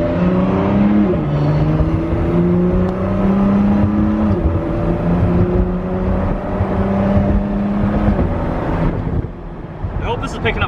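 A 2017 Ford GT engine revs steadily and loudly from inside the car during a ride, with shifting harmonic drones and a brief drop near the end, while passengers talk over it.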